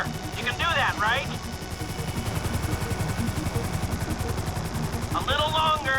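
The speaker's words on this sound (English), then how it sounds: "Just hold the chopper here." A helicopter hovers in the video game Grand Theft Auto V, its rotor thumping in a steady rapid pulse throughout while game characters talk over it in short bursts.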